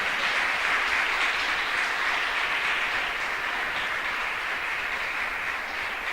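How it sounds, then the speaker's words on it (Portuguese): A church congregation at a Portuguese-language inner-healing seminar applauds, a dense, sustained wash of many hands clapping that continues evenly throughout without pause. "Você pode aplaudir o nome do Deus eterno?"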